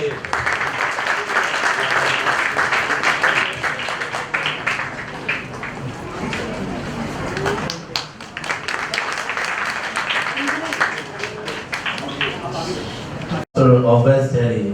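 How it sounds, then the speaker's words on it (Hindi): An audience at a Christian concert claps loudly and at length, with dense applause rising and falling, brief voices mixed in, and a short pause near the end before the noise resumes. "आइए जोरदार ताली बजा के"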